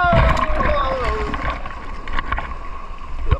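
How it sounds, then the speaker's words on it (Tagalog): Sea waves break and splash along the La Union coast in rainy weather, a loud, close, rushing wash of water with sharp splashes, while people talk over it. "Yan ang alon."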